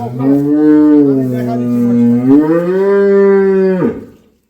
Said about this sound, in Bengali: তার মানে বকনা গরু